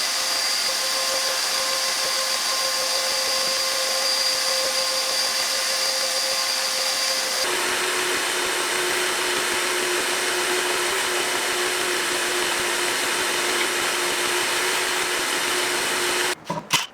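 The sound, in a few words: vacuum cleaner cleaning up garage floor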